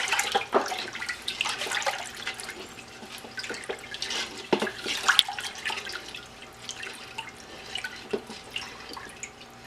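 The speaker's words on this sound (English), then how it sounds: "we're going to add that and stir for 15 seconds briskly." Milk for homemade feta cheese is briskly stirred after rennet is added, giving soft liquid sloshing and scattered clinks and drips, faint and close, without talk.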